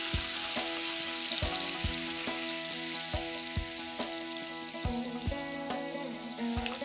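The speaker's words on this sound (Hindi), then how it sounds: "अब हम पनीर को फ्राई करेंगे और गैस की आंच आस्ते रहेगी।" Marinated paneer shallow frying in oil in a kadai over a low gas flame, a steady loud sizzle with regular clicking taps from spatula or utensil against the pan, close and without talk.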